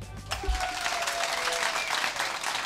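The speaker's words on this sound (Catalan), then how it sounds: "per favor, que aplaudeixi" A studio audience claps in a steady, dense burst of applause that carries through at even loudness, recorded during a Catalan comedy podcast taping.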